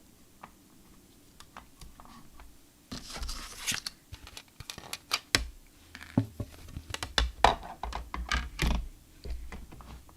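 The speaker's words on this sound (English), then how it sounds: "we just have one more leaf left to die cut" A paper leaf run through a die-cutting machine for a floral easel card, heard as quiet crunching, tearing and clicking that grows busier and louder halfway through, with irregular sharp snaps and low mechanical rumble.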